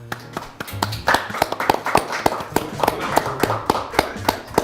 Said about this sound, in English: a big round of applause to everyone who made it to the top 20